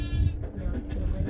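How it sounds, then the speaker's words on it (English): A sheep in the Minecraft video game lets out a short, low, wavering bleat that fills the whole brief moment, heard up close and loud. "Wait, a sheep?"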